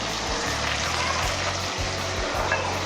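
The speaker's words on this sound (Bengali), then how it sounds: "যে মাছটা ভাজা হচ্ছে" Fish coated in turmeric frying in a pan at a home kitchen, a steady broadband sizzle with rhythmic low thumps in the background and no voices.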